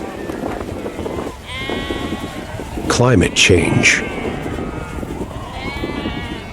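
Sheep bleat from a nomadic Kazakh herd on a farm in China, several calls in quick succession rising clearly above a steady spoken narration that runs throughout.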